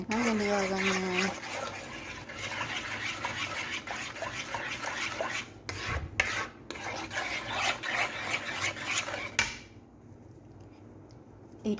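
Continuous gritty scraping of a spoon stirring sugar mixture in a pot for milk toffee until the sugar dissolves, close and steady for most of the stretch, then fading to near quiet at the end.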